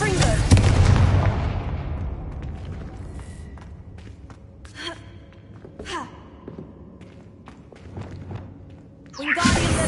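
A Confringo blasting spell explodes in the Hogwarts Legacy game, a loud burst at the start that decays into rumbling thuds, with further smaller impacts and a sharp blast near the end.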